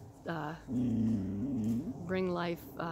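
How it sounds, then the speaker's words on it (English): A dog whines in high, wavering tones and lets out a low, rumbling growl in between, close by with no other sounds. "I got a barking dog, a whining dog, a pulling dog"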